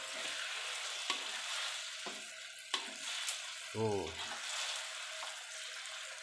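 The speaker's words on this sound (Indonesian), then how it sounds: "Ini tahunya digoreng sebentar." Tofu frying briefly in hot oil, a steady broad sizzle running throughout with a few brief clinks and stirring knocks, a short spoken word near the end.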